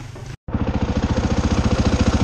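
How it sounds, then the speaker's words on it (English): Dirt bike engine running close by, a loud, steady pulsing rumble that cuts out briefly and then resumes with an even, throbbing beat and no talk. "There's a dirt bike in here."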